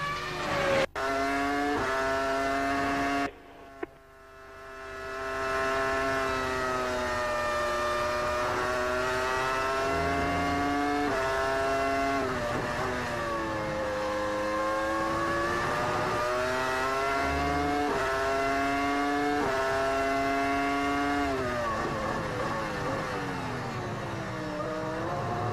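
A Formula One car at practice for the 2002 Malaysian Grand Prix screams through its gears as it accelerates hard, engine pitch climbing and dropping through repeated shifts, then backs off under late braking, loud and continuous throughout.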